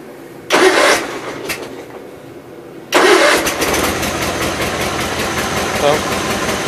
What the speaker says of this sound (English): let's see what it'll crank up like here this morning